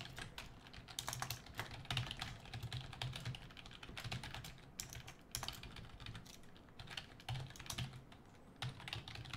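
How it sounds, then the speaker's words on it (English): Typing on a computer keyboard, a close, quiet patter of fast key clicks continuing throughout with small uneven pauses and no speech. "Now you can hear me type."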